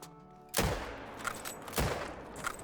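Two sharp rifle reports, the first loud and close with a booming tail and the second a beat later, fired at a bison in the hunting game theHunter: Call of the Wild.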